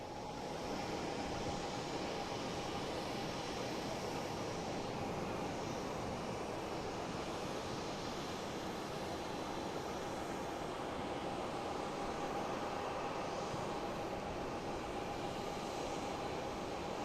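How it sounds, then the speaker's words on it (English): A JetBlue Airbus A321, flight 920 from San Diego, arrives at Boston Logan with a steady, moderately faint engine rumble and a thin sustained whine, holding an even level throughout with no talk. "we got a JetBlue coming in from San Diego, an A321, flight 920"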